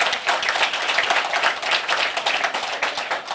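Steady round of clapping from a council meeting audience, dense and even in texture, moderately loud and continuous for the whole span without talk over it.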